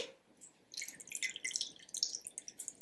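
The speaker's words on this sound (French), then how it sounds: "Donc on va mettre 500 ml d'eau." Water being poured into a bowl for a homemade almond frangipane pastry, a faint, thin trickle with light splashing and dripping that builds after a quiet start.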